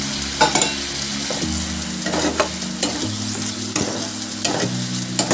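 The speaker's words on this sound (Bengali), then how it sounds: "টমেটো কাঁচা লঙ্কাটা একটু 2-3 মিনিট মশলার সাথে কষিয়ে নেব।" Tomato pieces and four slit green chillies fry in oil with spices for a Bengali soyabean and potato kosha, a steady close sizzle broken by repeated spoon scrapes and stirring knocks.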